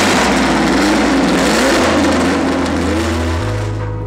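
A 1969 McLaren M9A race car engine runs loud and close, its deep throbbing roar rising and settling as the revs change, with no voices.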